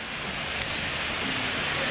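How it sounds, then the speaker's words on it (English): Indoor waterfall at an aquarium, a steady broadband rush of falling water filling the space continuously, fairly close and uniform throughout with no clear talk. "Look at the waterfall."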